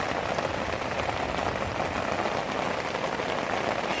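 Heavy rain pours steadily beside a reed-lined stream, a dense, even hiss of drops striking water and vegetation with no break and no voices.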